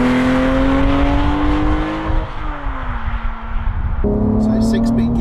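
A Porsche 911 GT3 Touring with a six-speed manual gearbox revs hard toward 9,000 rpm, its loud, close engine note climbing in pitch, then dropping at two gear changes before rising again.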